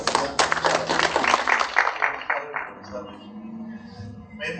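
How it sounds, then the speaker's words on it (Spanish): Audience clapping after a speaker is introduced at a Spanish-language master lecture on the judiciary and the constitutional court: dense applause for about two seconds that thins out and fades as a voice and room sounds take over. "fuerte aplauso"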